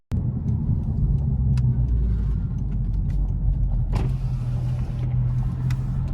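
A 2022 11th-gen Honda Civic Si's exhaust, fitted with a PRL HVI, drones steadily while driving, with low road rumble and a brief louder swell midway, no talking.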